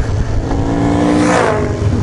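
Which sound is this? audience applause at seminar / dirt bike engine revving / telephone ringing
dirt bike engine revving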